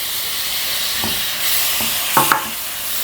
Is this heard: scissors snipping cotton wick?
no